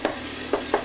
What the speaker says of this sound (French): On frit, ça sent la friture